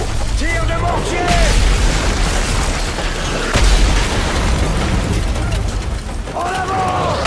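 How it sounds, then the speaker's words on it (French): Mortar shells explode in Call of Duty: Modern Warfare 3 during a firefight in Africa, heavy booms rolling under constant battle noise while soldiers' voices shout over the din. "Tire de mortier !"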